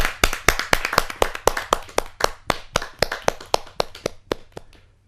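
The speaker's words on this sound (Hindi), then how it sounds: "जोरदार तालियों के साथ हम नंद किशोर जोशी जी का स्वागत करें।" An audience at a Hindi poetry gathering claps to welcome a poet, a brisk, fairly close burst of applause that thins out and fades over about five seconds.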